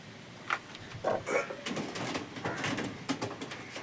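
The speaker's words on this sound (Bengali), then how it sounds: "তো এই বন্ধুরা দেখুন পায়রা দুটো স্ট্যান্ডিং" Pigeons coo softly in short, scattered calls from a small group of young and adult birds kept in a loft, over a steady hiss of background noise.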